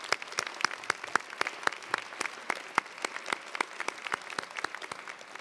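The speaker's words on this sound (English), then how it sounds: "So let's offer a round of applause to the staff at UC Merced." Sparse, distinct handclaps from a small audience at a UC Merced fall commencement, honoring university staff; individual claps ring out irregularly, fairly close and moderately loud.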